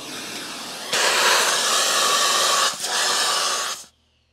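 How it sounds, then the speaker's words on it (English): An Oreck Magnesium vacuum cleaner roars steadily with a brief dip in pitch partway through, then shuts off abruptly, leaving quiet. "I'm just going to vacuum it out."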